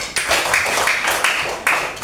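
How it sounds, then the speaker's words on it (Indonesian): Primary school pupils in a classroom clap for a classmate, Nanda Aira, a short burst of brisk, fairly close handclaps with several louder accented beats and no talking over it. "Tepuk tangan buat Nanda Aira"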